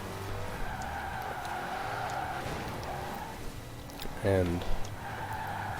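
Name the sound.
tire squeal of a drifting Dodge Daytona in a video game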